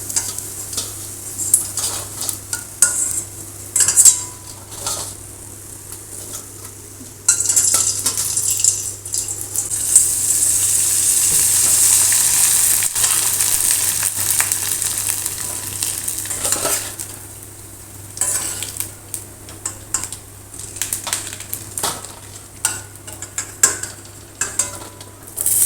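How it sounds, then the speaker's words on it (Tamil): Sun-dried vathal fryums fry in hot oil, giving a continuous close hiss and bubbling that swells into a louder, denser sizzle midway, with scattered clinks and stirring and no voices. "வத்தல் பொரிச்சாச்சு"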